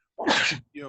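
A person sneezes once, loud and close, with a sharp burst followed by a shorter voiced tail.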